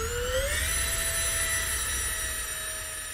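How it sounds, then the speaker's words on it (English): A high, steady jet whine of a model EDF jet in the RealFlight Evolution flight simulator, with a rising whistle that settles into a constant tone over a low engine rumble. "This sounds like a real EDF jet now."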